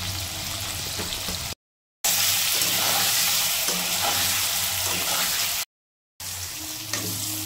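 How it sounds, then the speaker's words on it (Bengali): Ridge gourd and paneer sizzle loudly in a hot pan with a little turmeric, a constant crackling fry with occasional stirring scrapes, broken by two brief silent gaps. "হালকা করে ভেজে নিলাম"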